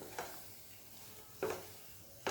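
A spoon scrapes through a dry coconut burfi mixture in a pan, giving three soft scraping strokes at a slow, uneven pace over a faint background hiss. No one speaks.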